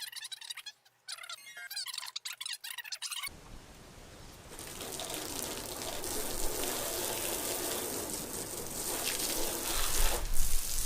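Water splashing and hissing over a Toyota Landcruiser 200 Series bonnet to rinse grit off the paint, a continuous close rush that swells toward the end after a few seconds of other quieter sounds.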